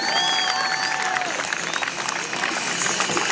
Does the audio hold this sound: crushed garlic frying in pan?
no